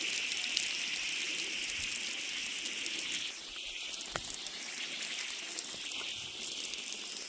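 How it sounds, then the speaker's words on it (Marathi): Water is poured over potted plants, giving a steady hissing splash that runs throughout at close range, with a few sharp taps partway through. "तर बघा सगळ्या झाडांना मी पाणी घालून घेणार आहे"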